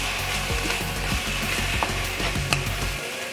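Spinach artichoke dip with mozzarella cheese being stirred in a pan, a steady run of close, scraping, clicking stir strokes over a faint sizzle, with no talking.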